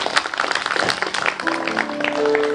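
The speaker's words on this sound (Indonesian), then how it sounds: "Beri tepuk tangan untuk Tuhan." A church congregation claps during a sermon in a brief burst that fades as a sustained tone comes in.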